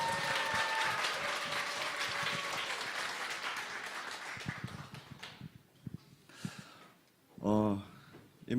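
A church audience at a presbytery evangelism camp forum applauds to welcome a pastor, with loud, dense clapping that gradually thins out into scattered claps, followed by a brief burst of speech near the end.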